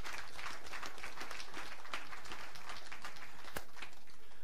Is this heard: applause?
yes